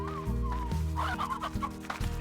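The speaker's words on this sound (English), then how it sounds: "Oh, look, that's actually a briar hen." Briar hen in the Slime Rancher video game giving repeated clucks in a steady rhythm over a droning game music bed, close and clear with no talk.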